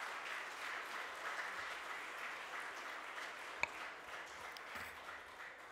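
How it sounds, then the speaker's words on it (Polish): Steady applause from the audience at a county council session in Wadowice, Poland, a dense, even patter of clapping held throughout at a modest distance, with no voices over it. "Brawa dla wszystkich."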